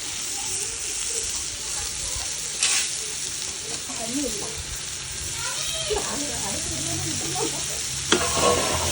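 Biryani ingredients sautéing in ghee while being stirred, a steady close sizzle with utensil scrapes and occasional clanks against the pot, and voices talking faintly in the background.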